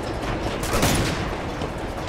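Rapid gunfire from the video game Uncharted 2, a dense burst of overlapping shots forming a continuous crackling fusillade, loud and close, peaking in the middle.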